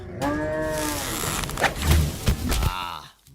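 A cartoon cow bellows in long, drawn-out moos as it flees a tiger in a forest near Vrindavan, followed by a clatter of running hooves and rustling, loud and close.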